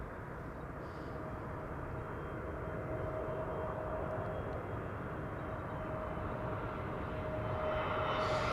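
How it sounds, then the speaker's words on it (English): A TAP Air Portugal airliner arrives at Amsterdam Schiphol, its engine roar a steady broad rumble that swells gradually as it nears, with no voices. "This is TAP Air Portugal, flight 668. Arrival for Portugal."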